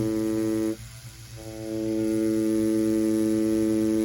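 A tattoo machine hums steadily and loudly while working a detailed flower design, its drone dipping briefly as the needle tip is dipped into the ink cup, then returning to full strength.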